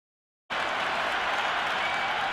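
Cricket crowd at a Big Bash T20 match between Hobart Hurricanes and Melbourne Stars bursting into loud applause and cheering, a dense roar that starts abruptly after a moment of silence and holds steady.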